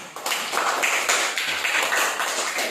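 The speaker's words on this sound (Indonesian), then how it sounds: "Tepuk tangan" A classroom of students claps together in dense, continuous applause, many hands overlapping into a steady patter that stays loud and close for the whole stretch.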